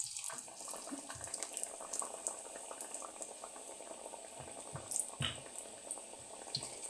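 Samosas frying in hot ghee in a kadai, giving a steady bubbling, boiling-like sizzle that runs throughout at moderate level, with a few brief clicks and knocks near the middle.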